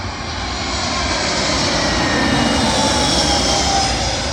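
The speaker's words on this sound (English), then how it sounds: "Arriving in now is a British Airways A319 from Bologna." A British Airways Airbus A319 comes in to land at London Heathrow, its jet engines giving a loud, steady roar that swells slightly as it passes close by, with no voices.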